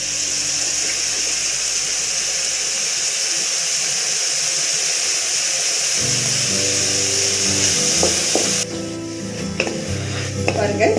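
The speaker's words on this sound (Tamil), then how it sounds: "கொஞ்சம் நேரம் வதங்கட்டும்." Tomato, onion and green chilli sauté in oil in a pan for Tamil-style tomato rice, a steady loud sizzle with bursts of stirring and clattering utensil scrapes toward the end, no voices.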